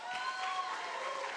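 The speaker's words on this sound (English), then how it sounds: "Please give Dosh a big round of applause." Audience applause at a hackathon opening ceremony, a steady wash of many hands clapping throughout, fairly even in level, with some crowd noise mixed in.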